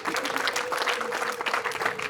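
Wedding guests clap together in a dense, steady round of applause with many hands, loud and continuous throughout the moment.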